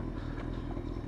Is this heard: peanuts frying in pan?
no